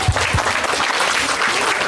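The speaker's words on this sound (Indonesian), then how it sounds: "Kita berikan tepuk tangan dulu." A church congregation at a Pentecost celebration service breaks into applause, a dense, even wash of clapping that lasts throughout, with no voices standing out.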